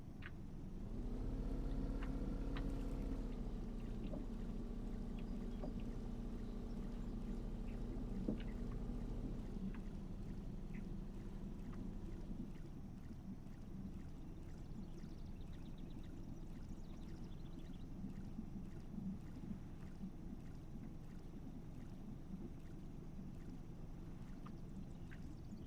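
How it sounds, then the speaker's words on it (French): A fishing boat's outboard motor runs steadily, a low droning hum that is louder and rougher for the first ten seconds, then settles into a quieter, even purr with water sloshing around the hull. "Hop, on redémarre le moteur."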